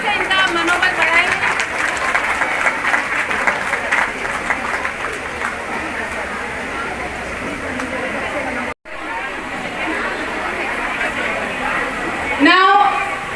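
Loud, sustained applause from a large crowd at a Women's Day event, steady clapping with a brief dip and cheering whistle-like tones near the end.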